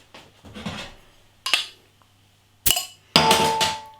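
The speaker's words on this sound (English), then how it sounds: "Let's get the beer out into a glass and see what we get." Devil's Canyon Full Boar Scotch Ale, a 7.4% ABV beer from a black-capped bottle, goes into a glass: a few sharp close glassy clinks and knocks, then a bright, sustained rushing pour at the end.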